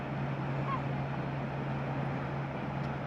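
A fishing boat returning to an Italian port: its steady low engine drone hums in the distance beneath a constant wash of wind and sea noise.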